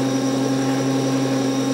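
Steady, loud mechanical whine of a ReGenX ebike motor system running on a test bench near 3300 RPM, a constant tonal hum with no change in pitch over the short span.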